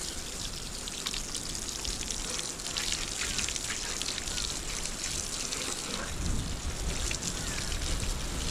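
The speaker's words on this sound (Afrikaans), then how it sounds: "Die stortkraan word nie net gebruik om mee te stort nie." Water from a camp shower spray running down to wash the step: a steady dense hiss of splashing and trickling that swells slightly toward the end, continuous with no voices.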